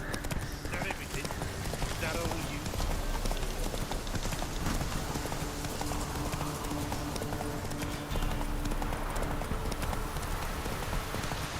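Roach, the horse in The Witcher 3 video game, trots through Velen with a steady, rapid clip-clop of hooves under constant ambient noise, close and continuous throughout.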